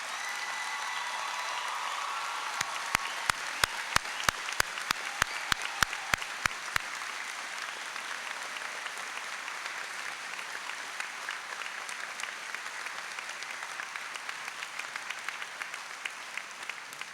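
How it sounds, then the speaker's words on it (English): Graduation ceremony crowd applauding the graduates, sustained broad clapping from a large audience that fills the room, with a few sharp clicks early on, continuing steadily throughout. "How about a great round of applause for all of the graduates?"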